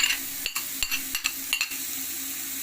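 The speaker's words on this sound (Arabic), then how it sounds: "ونقلبه قلوبه كده، قلوبه في البصل" Peppers and onions frying in a pan hiss with a steady sizzle, broken by several sharp scrapes and clacks as a utensil stirs them at an uneven pace.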